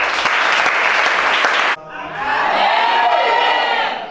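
A church congregation at a deliverance service claps loudly, then the applause cuts off and swells into crowd cheering and shouting, many voices rising together close by.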